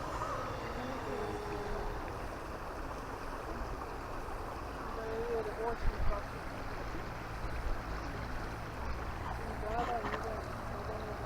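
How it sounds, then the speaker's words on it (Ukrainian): A mountain river flows in a continuous, soft rushing wash heard from close by in the Slavske mountains, with a few faint voices in the background. "гірська річка"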